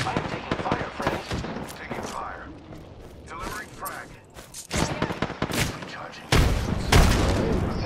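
Gunfire in the video game Apex Legends, with repeated sharp bursts and shots scattered through the clip, some heavier and louder toward the end, mixed with game effects and voice chat underneath.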